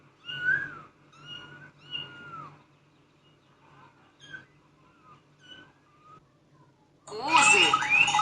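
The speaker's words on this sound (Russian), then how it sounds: "Кошка и котята." Cat and kittens mewing in a series of short, high-pitched meows and softer cries, mostly close and moderately loud, ending with a louder, harsher cat wail.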